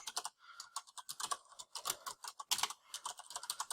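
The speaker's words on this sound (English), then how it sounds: "I'll just type that on the screen." Fingers tap out text on a computer keyboard in rapid irregular bursts of crisp clicky keystrokes, close and fairly quiet, with short gaps between words and no voices.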